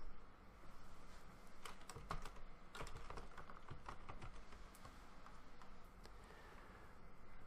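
Someone types a password on a computer keyboard, producing quick, close, irregular key clicks in a steady run over a quiet room.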